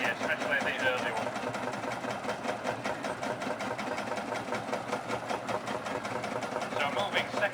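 A vintage Field Marshall tractor engine runs at a steady pace, its rapid, regular chugging beats continuing throughout with voices talking over it.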